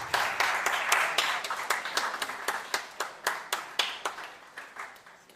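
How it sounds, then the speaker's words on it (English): A forum audience at a youth democracy event claps in a sparse, rhythmic round, distinct individual hand claps ringing out in a steady patter that gradually thins toward the end. "Let's give him a round of applause."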